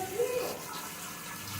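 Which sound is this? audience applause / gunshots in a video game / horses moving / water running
water running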